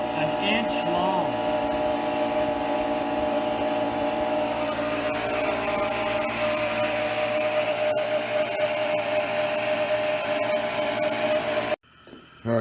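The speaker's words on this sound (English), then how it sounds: "That compressor and all that stuff's a little loud." A shop air compressor drives a laminar flow torch rated to 2400 °F, making a loud, steady roaring hiss that runs continuously, then cuts off abruptly near the end before a brief burst returns.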